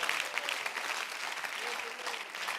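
Steady, moderately loud clapping from a church congregation at a fasting-day service fills the whole span, with faint voices murmuring underneath.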